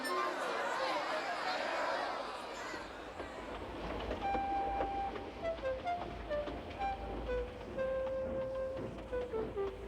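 In a Thomas & Friends cartoon, Gordon the steam engine pulls away from a platform, a rumbling, chugging train with a whistle-like tone, heard beneath a narrator's voice and background chatter.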